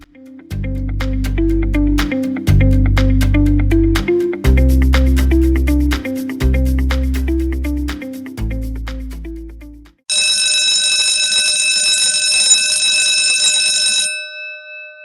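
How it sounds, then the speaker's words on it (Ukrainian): A school bell melody rings out for the first day of the school year: a run of repeated loud electronic chime notes, followed by a sustained high, bright ringing tone that fills the last few seconds. "Ось і пролунала в новому навчальному році чарівна мелодія шкільного дзвоника."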